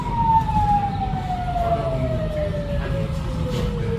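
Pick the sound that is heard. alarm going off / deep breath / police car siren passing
police car siren passing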